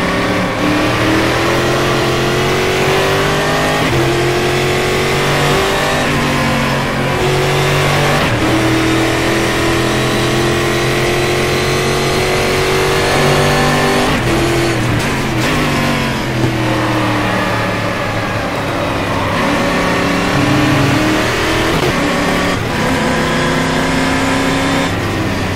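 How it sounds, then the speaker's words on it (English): A stock car V8 engine in the racing game Game Stock Car 2013 revs loudly and continuously, its pitch climbing and dropping through repeated gear shifts, with no talk over it. "The sounds, I just love the sounds of this car."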